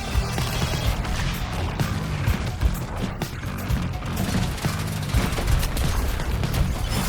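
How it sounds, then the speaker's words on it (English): A new weapon firing sequence in Suicide Squad: Kill the Justice League, loud rapid rhythmic volleys of shots and impacts repeating steadily in a dense, continuous barrage. "Try this new firing sequence"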